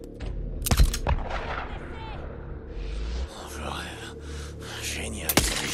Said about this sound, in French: Oh merde! De l'artillerie lourde.